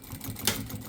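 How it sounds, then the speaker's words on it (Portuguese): A sewing machine runs a short stitching burst over a quilted NaFe 13x18 pouch with the presser foot half on the fabric. It gives a quick, close, even mechanical patter with one sharper tick midway. "eu vou passar a costura aqui de novo"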